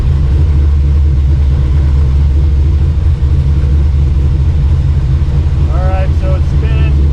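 A car engine runs with a steady loud low rumble after a new transmission install, close by and unbroken throughout, while a voice speaks briefly near the end.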